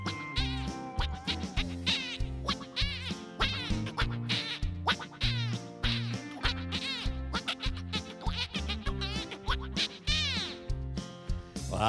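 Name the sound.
man imitating duck quacking like a duck call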